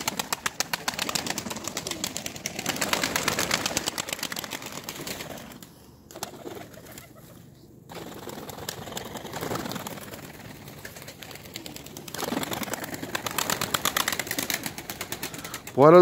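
Domestic pigeons coo inside a coop, low throaty calls repeating through a steady murmur of birds, with a brief wing flutter or movement near the end.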